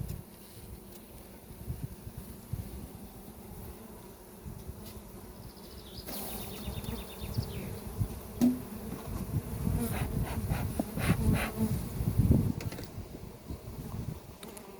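Honeybees buzzing around an open hive during an inspection of a seven-frame colony freshly moved to a second apiary, a steady dense hum with louder, busier swells and occasional sharp nearby buzzes as frames are lifted.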